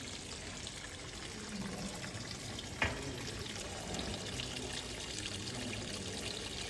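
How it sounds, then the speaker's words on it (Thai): Water flows steadily at a garden waterfall, making a soft, continuous splashing rush at a moderate distance with one brief tap heard partway through. "น้ำตกมีปลาด้วยค่ะ"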